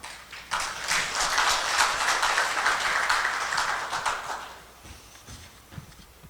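Audience applause at a local council academy event in Daegu, a moderate wash of clapping rising quickly, sustained for several seconds, then fading into scattered claps.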